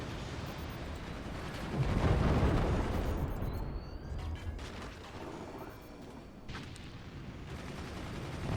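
A smoke launcher fires in the strategy game Forts, a heavy rumbling whoosh that builds and swells, then trails off into softer mechanical noise and a few fainter later bursts.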